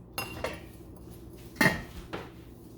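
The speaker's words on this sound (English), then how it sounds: "lid on and simmer for 15 more minutes" A lid goes onto a pot of vegetarian mushroom soup set to simmer, with a few distinct metallic clanks and knocks, the loudest near the middle, close by in an otherwise quiet kitchen with no talking.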